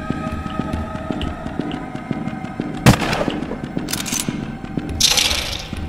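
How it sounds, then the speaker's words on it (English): A shotgun fires in the horror game Carnival Massacre with one sharp, loud blast. Game ambience and a steady mechanical hum run underneath, and a hissy burst follows later. "I can tell it hurts when I shoot a shotgun."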